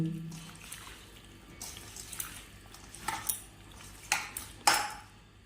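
Fish being mixed by hand with spices in a bowl for banana-leaf paturi, soft wet squelching and scraping with a few sharper clinks of the bowl near the end, close and fairly quiet.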